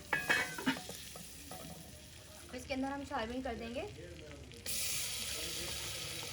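Chicken mixture sizzling in a hot kadai with desi butter, a soft steady sizzle and stirring scrapes under a voice, swelling into a louder hiss near the end.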